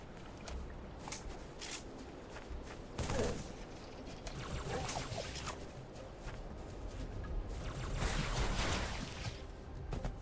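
An AI character in Halo 3's Forge world fires repeatedly, fairly faint and somewhat distant, with irregular bursts of shots and rattling over a busy game background.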